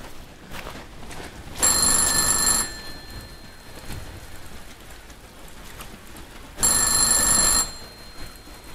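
A telephone rings in a horror video game set in a haunted village, two bursts of bright electronic ringing about five seconds apart over a bed of steady rain-like hiss.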